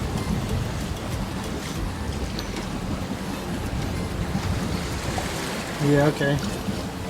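Strong wind of 25 to 30 knots and waves surround a sailboat at night, a steady rushing roar with sloshing water heard from inside the cabin, with brief speech near the end.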